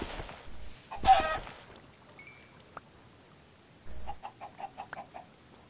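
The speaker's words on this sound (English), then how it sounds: "I hear a chicken." Minecraft chicken clucking in a run of short, evenly spaced clucks near the end, after a brief burst of game noise and a few small blips, with no talk.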